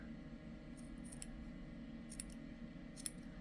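Faint scissor snips cutting yarn, a few quick closes spaced out over a soft steady background hum.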